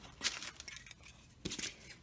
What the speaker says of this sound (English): I'm going to cut a piece of this lace